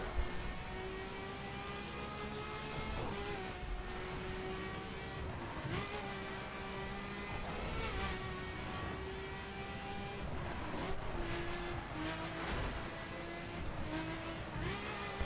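Ferrari F12 Berlinetta V12 in The Crew, revving hard through corners in a power slide, the engine note rising and dropping with shifts and throttle blips, with brief tire squeal, loud and continuous throughout.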